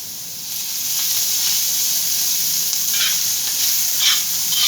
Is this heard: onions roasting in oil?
yes